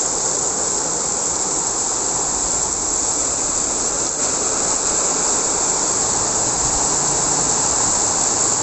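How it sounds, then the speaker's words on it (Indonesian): A strong night storm of wind and rain roars steadily and loudly throughout, a dense continuous rushing wash with no pauses and no voices. "Anginnya kenceng."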